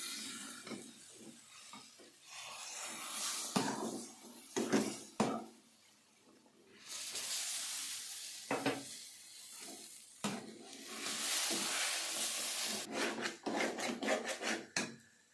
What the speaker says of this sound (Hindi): दूध हमने गर्म लेना है 1 कप। आस्ता आस्ता इसमें डालते जाएं ताकि ये लम्ब ना बने।